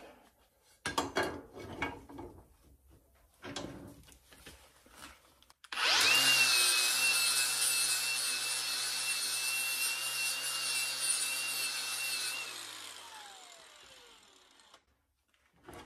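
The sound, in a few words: cleaning metal surface of 1972 VW Super Beetle parts before welding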